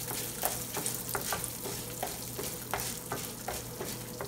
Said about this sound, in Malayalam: ഒരു 1/2 ടീസ്പൂൺ കടുക് ഇട്ട് കൊടുക്കുക. അതിനുശേഷം ഒരു 3 ടേബിൾ സ്പൂൺ ഉഴുന്നിട്ട് ഉഴുന്ന് നന്നായി ഒന്ന് ബ്രൗൺ കളർ ആവണം.